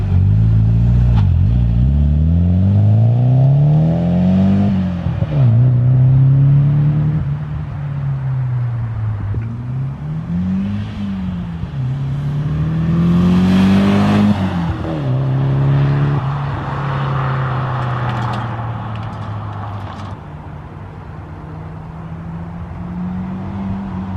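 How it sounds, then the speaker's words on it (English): A Nissan 180SX's turbocharged four-cylinder SR20DET engine revs and accelerates through a loud aftermarket HKS exhaust, its pitch rising and falling through several gear changes, close and steady. "The SR20 DET does sound pretty awesome coming through the HKS exhaust"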